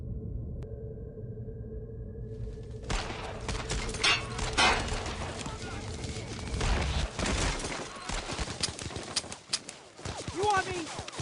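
Battlefield gunfire in the WWII shooter Brothers in Arms: Road to Hill 30, a dense crackle of rifle and machine-gun shots with rumbling blasts, continuous and loud beneath shouting voices.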